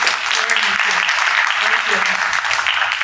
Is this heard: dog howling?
no